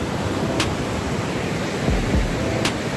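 Niagara Falls roars as a steady, dense wash of broadband water noise, loud and continuous throughout with no pauses, heard alone with no voices.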